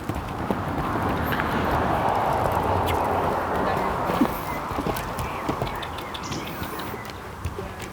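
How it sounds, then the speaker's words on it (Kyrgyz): A high-priced horse plays outdoors, hooves clopping on the ground in uneven bursts amid wind noise and birdsong, with a brief whinny-like sound midway. "Аттын ойногонун карагылачы"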